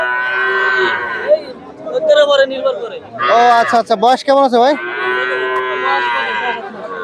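A calf at a cattle market gives a loud, drawn-out moo with wavering pitch, followed by a second call, while men chat nearby.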